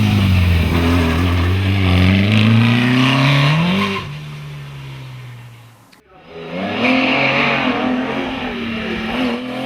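A Vauxhall-powered Westfield race car climbs at a speed hillclimb. Its engine revs hard and loud through rising gear pulls, cuts out briefly on a shift, then screams up again as it moves away.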